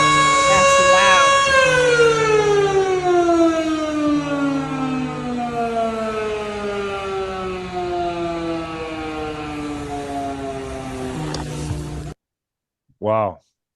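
Civil defense siren in New Jersey, loud and continuous, its rich harmonic tone sliding downward in pitch as it winds down before cutting out, followed by a brief separate burst after a short silence.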